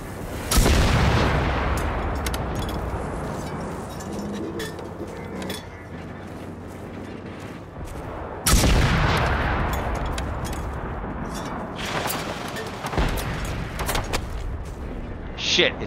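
Gunfire from an enemy robot in the video game Generation Zero: loud booming shots with long decaying tails, two big blasts several seconds apart and smaller cracks between.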